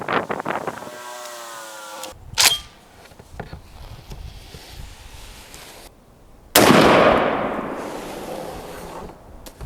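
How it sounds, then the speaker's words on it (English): Shotgun firing a TSS turkey load at a pattern target outdoors: a single sharp blast followed by a rushing, decaying roar, preceded by wind noise and faint handling sounds. "this was our second shot with TSS after our adjustment"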